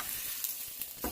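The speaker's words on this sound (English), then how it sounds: "I'm going to go ahead and flip the steak now." A steak frying in a pan right after being flipped, giving a steady, close sizzle that keeps hissing evenly for a moment, with a brief louder burst near the end.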